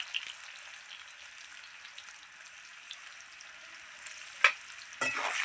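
Potatoes seasoned with salt and a little turmeric fry in a pan, giving a steady, fairly quiet sizzle throughout, with a couple of sharp clatters near the end.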